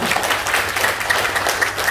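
An indoor audience at a business seminar claps steadily for about two seconds, a dense patter of many hands at moderate volume.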